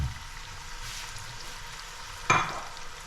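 Broth poured into sautéed food in a pan lands in one sudden splash and hiss after a stretch of quiet sizzling and stirring, then settles back to a low simmer.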